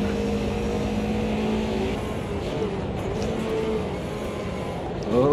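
A race car engine in the Automobilista 2 racing game drones steadily at high revs, the pitch shifting through a gear change, loud and continuous, with a rise in level near the end.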